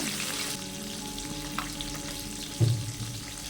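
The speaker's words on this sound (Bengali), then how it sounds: "একসঙ্গে সব মাছগুলো ভাজা সম্ভব নয়, বেশ বড় বড় মাছগুলো, তার জন্য 4 পিস করে করে ভেজে নেব" Whole puti fish frying in hot oil in batches of four, a continuous close sizzle with a faint clunk of a utensil near the end.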